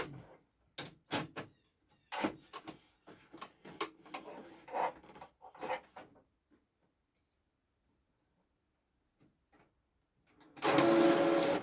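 An HP T100 printer working: a run of choppy mechanical bursts and clicks, then a quiet pause, then a loud, steady whirring stretch at the end, close by and with no talking.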